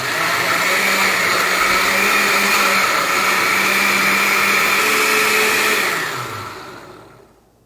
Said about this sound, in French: Couvrez et mixez le tout.